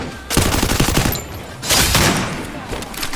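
Two loud, close bursts of rapid gunfire in the mobile battle game Free Fire, each rattling for about a second with a short gap between them, with a voice talking over the shots.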